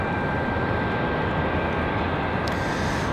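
Southwest airliner taxiing to line up for departure at Raleigh-Durham International, a steady broadband engine rumble and whine held at constant loudness throughout, with no voices.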